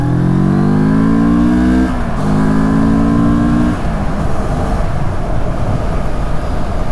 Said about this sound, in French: On va dépasser la voiture, comme ça on va voir un peu l'accélération.